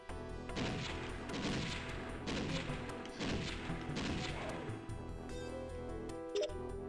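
Rapid bursts of gunfire and crashing impacts from enemies shooting each other in the video game Doom, with dense repeated shots in several rolling waves, fairly loud and close, followed by a sharp late hit.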